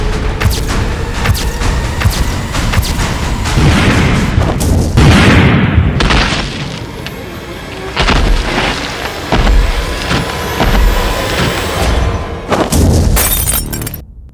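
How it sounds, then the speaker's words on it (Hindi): A loud, sustained roar of blasts from about 1,000 demolition explosives and crashing debris, rolling on for several seconds, with sharp cracking bursts as a building collapses. "इस बिल्डिंग में अलग अलग जगह लगभग 1000 विस्फोटक लगाए हैं और अब चंद ही मिनटों में ये बिल्डिंग मलबे के ढेर में बदल जाएगी"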